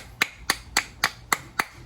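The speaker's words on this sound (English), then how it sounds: "And go ahead and hammer it through" A hammer strikes a brake part to drive it into place during assembly of a rear big brake kit for a 2006-2011 Honda Civic. Seven sharp metallic taps come at a steady, even rhythm, close and clear, with no talking.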